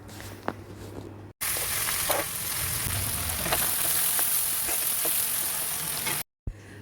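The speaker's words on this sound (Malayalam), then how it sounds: "വേപ്പിലയും ക്യാരറ്റൊക്കെ എല്ലാം കൂടി ഒരുമിച്ചിട്ടൊന്ന് വാട്ടിയെടുക്കുകയാണ്." Curry leaves, carrot and onion sautéing in coconut oil for upma, a steady close sizzle and crackle with light stirring, starting abruptly and cutting off before the end.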